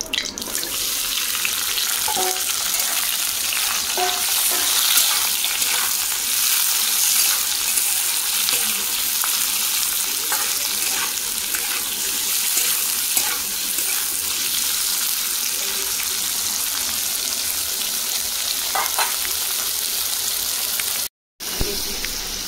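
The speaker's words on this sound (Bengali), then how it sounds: "বড় সাইজে 2টো পেঁয়াজ কুচিয়ে নিয়েছি, আদা কোচানো আর রসুন আর 3টা টমেটো নিয়েছি, তেলের মধ্যে দিয়ে দেবো" Onions, ginger, garlic and tomatoes fry in hot oil in a pan. A dense, continuous sizzle and hiss runs nearby for the full length, with faint stirring knocks and one short dropout near the end.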